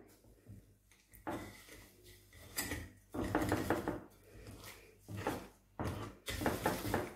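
Butter, eggs and brown sugar being stirred together for cookie dough in a bowl, with repeated bursts of spoon scraping and clinking against the bowl separated by short pauses, close and moderately loud.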